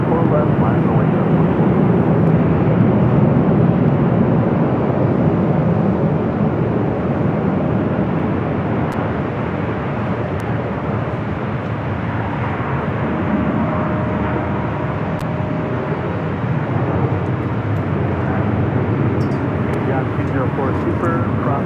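An Airbus airliner departs from runway 24 left at LAX, a broad, loud, steady jet roar lasting throughout, with radio chatter over it.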